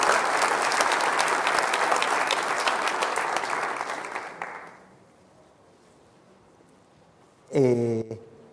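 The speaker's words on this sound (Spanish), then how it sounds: "realmente un aplauso enorme para todos ellos, realmente muy buen trabajo." Audience at a circular-economy forum giving a long, loud round of applause that dies away after about four seconds into quiet room tone, before a voice starts speaking.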